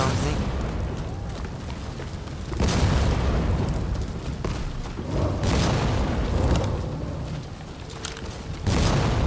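Enemy gunfire in the action game Rise of the Ronin: heavy booming shots and blasts recur in bursts over loud battle noise, with a voice talking over the clamor.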